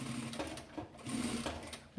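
Sewing machine joining fabric scraps into strips for an organizer basket, a close steady whirring hum with quick needle pulses, with a voice talking over it.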